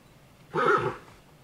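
A single brief horse whinny in the 7 Days to Die video game, a short rising neigh lasting about half a second over a quiet background.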